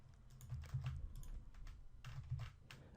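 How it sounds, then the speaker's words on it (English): A website address typed on a computer keyboard: a quick run of soft key clicks, close and quiet, with a low background hum and no talking. "we're going to type the address of our website there"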